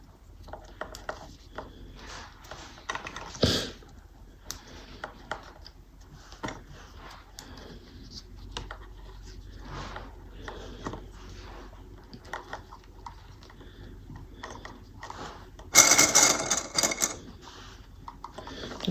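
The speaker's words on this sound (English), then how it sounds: "we're going to top stitch the folded edges here" A sewing machine top stitching the folded edges of a bucket bag, heard as quiet rapid ticking stitches in short runs with pauses and a louder burst near the end.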